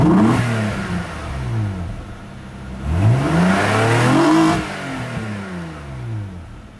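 A 1995 Nissan Maxima with a cold air intake and aftermarket exhaust revs up twice in quick run-ups, the engine note climbing and falling back to idle, loud and close.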